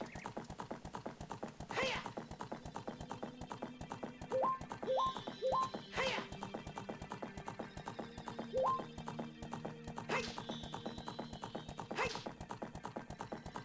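Epona the horse galloping in the video game Ocarina of Time: quick, rhythmic clip-clop hoofbeats throughout, with several short neighs and chiming game effects over a quiet background.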